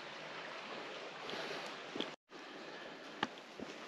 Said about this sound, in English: just by the babbling brook again.